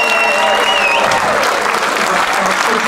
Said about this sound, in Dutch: Geef ze nog eens een dagelijks applaus jongens